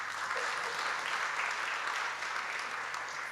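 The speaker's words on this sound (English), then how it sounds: "let's just clap to that, please" A book-launch audience claps in a steady, even wash of applause, moderately distant and fairly quiet, with no speech standing out.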